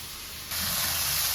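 Finely chopped onions hit hot oil in a pan for a Tamil-style kuzhambu, a sudden bright sizzling hiss that jumps up halfway through and holds steady and close, with no talking.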